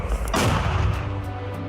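A single heavy, booming launch from a Finnish mortar, close and loud, with a deep rumble that lingers for a moment afterward.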